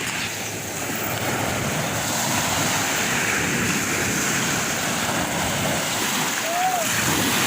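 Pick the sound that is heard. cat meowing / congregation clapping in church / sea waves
sea waves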